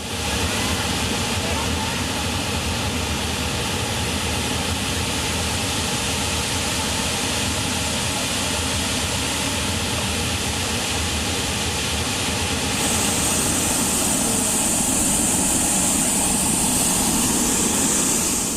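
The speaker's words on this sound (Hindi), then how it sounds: "डैम ओवरफ्लो हो रहे हैं और देखिए डैम के ऊपर से पानी गुजर रहा है" Flood water pours over an overflowing dam after heavy monsoon rain and a cloudburst, making a loud, steady roar of rushing water that continues without a break and grows brighter toward the end.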